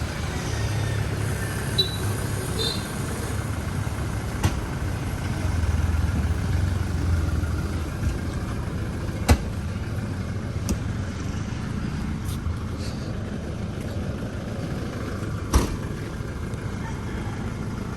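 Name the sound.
riding inside a multi-cab vehicle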